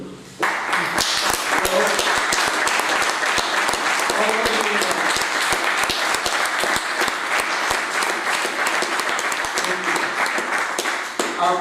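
A large audience at a business seminar breaks into sustained, dense applause that starts abruptly after a short pause and carries loudly and evenly for about ten seconds before tapering off at the end.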